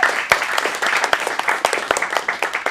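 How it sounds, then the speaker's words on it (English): Audience applause fills a teen acting studio showcase in Phoenix after a monologue, a dense wash of clapping with a few sharper close claps and whoops standing out, steady for the whole stretch. "And round of applause."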